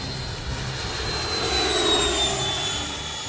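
A 130 mph radio-controlled jet plane screams past at full throttle, its high turbine whine swelling steadily and then easing off as it moves away, loud and continuous with no talk over it.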